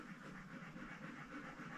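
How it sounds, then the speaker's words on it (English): Steady, rapid panting from a dog nearby, a continuous rhythmic breathy huffing with no one talking. "That's my dog panting."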